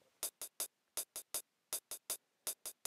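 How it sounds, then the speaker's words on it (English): Crisp sequenced hi-hat ticks in an even, straight eighth-note pattern, groups of three separated by short gaps, dry and close with nothing else playing. "this is played on the hi-hat"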